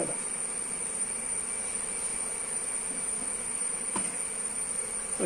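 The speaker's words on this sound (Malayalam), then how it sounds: "ഒരു ഈച്ച കുത്തുന്നുണ്ട്." Honey bees at a beekeeping hive keep up a steady, dense buzz, alone and close, with a faint high whine running through it and no talk.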